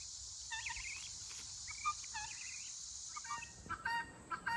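Guinea fowl calling in short repeated chirping squawks, several birds at a moderate distance over a steady high insect-like hiss outdoors.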